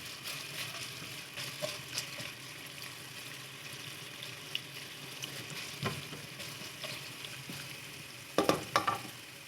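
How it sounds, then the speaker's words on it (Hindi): Large carrot pieces fry in a pan for a vegetable fried rice, giving a steady close sizzle with occasional stirring scrapes and a few louder clatters near the end. "5 मिनट मैं इसको फ्राई करूँगी"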